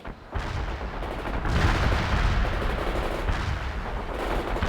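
World in Conflict battle with insurgents: dense, continuous rattling gunfire and heavier artillery booms blending into a loud, unbroken roar of combat with no pauses.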